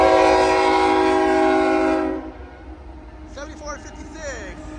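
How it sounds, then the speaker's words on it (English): A Union Pacific auto rack train near Reno, Nevada sounds a loud, sustained horn for about two seconds, then rumbles on with steady rail noise while voices chatter faintly nearby. "this is an incoming Union Pacific auto rack train."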